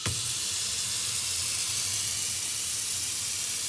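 Water runs steadily from a kitchen faucet in stream mode into a newly installed 33-inch stainless steel top-mount sink, a constant close hiss with no talk.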